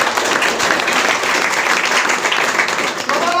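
Audience applause from a crowd at a motivational talk, a dense steady wash of clapping filling the whole stretch at high volume with no break.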